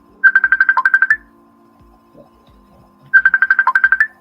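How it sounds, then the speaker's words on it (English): A mobile phone rings at a tournament event, two loud bursts of rapid repeated trilling tones separated by a pause of near silence. "Somebody's phone is going crazy right now."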